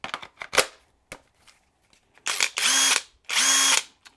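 A Lagatuns 627 ft-lbs cordless impact wrench gives two loud, sustained bursts, each lasting about half a second, set apart by a short gap, after several sharp handling clicks and knocks.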